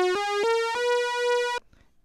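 A buzzy two-oscillator sawtooth synth tone, a Blade Runner patch recreation, sounding alone, bright with stacked harmonics, stepping up in pitch over a few short notes, then cutting off sharply.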